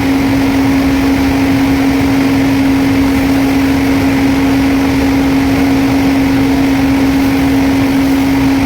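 A self-loading concrete mixer drum turns at around 21 to 22 RPM, giving a loud, unbroken mechanical drone with a steady hum and engine rumble throughout.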